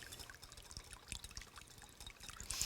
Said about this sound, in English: So in a slow, steady stream, just add the oil